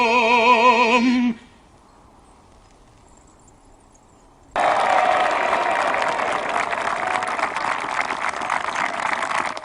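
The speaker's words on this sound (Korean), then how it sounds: "적장의 찬양에 환호하는 연합군." A burst of massed crowd cheering and clapping, loud and sustained, breaks in after a short near-silent gap that follows a few seconds of melodic singing.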